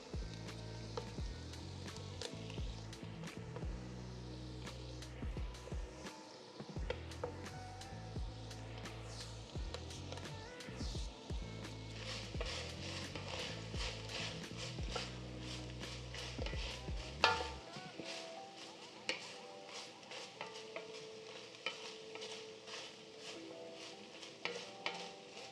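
Minced garlic and vegetables sizzle in a chili pot over browned ground beef, with steady frying hiss and frequent scraping stirs throughout, louder and busier in the first half.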